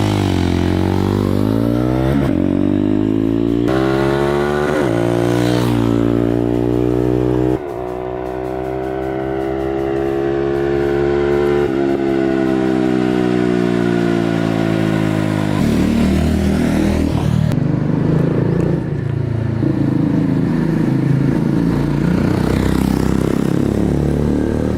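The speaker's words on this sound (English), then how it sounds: "we have taken the sound of the exhaust at standstill and then at flybys at various RPMs" A 2024 Jawa 350cc motorcycle exhaust roars loudly and steadily, its pitch climbing and falling through repeated revs at standstill and passing flyby runs, with no voices.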